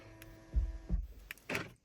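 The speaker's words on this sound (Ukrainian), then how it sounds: "Новий ключ зачиняє, відчиняє." A 2021 Volkswagen Touareg's central locking is operated with a smart key, giving two quick mechanical thunks of the lock actuators followed by a brief buzzing whir, close and distinct.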